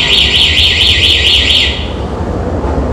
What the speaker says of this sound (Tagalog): Mag-alarm na yan siya,